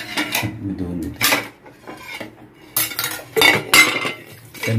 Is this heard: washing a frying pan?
yes